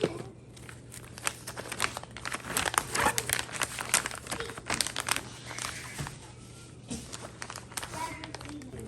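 A plastic vacuum sealer bag crinkles and crackles loudly up close as it is cut and handled, in busy bursts of rustling, with a voice talking alongside.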